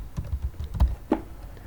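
Several quick, soft key taps on a computer keyboard while code is typed, heard close and irregular over a short stretch.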